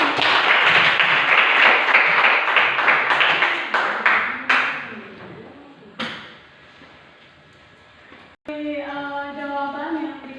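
Classroom applause breaks out as a dense burst of many hands clapping, then thins into a few scattered claps and fades. A voice starts talking afterward.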